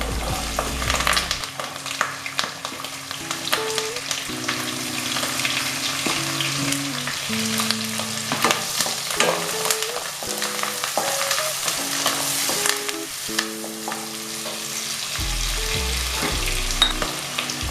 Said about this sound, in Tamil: இப்போ நம்ம வெங்காயம் கருவேப்பிலை